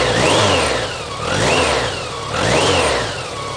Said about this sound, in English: you hear all the injectors doing their injecting, and the whine from the engine